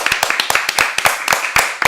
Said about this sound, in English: We gotta give her a big round of applause.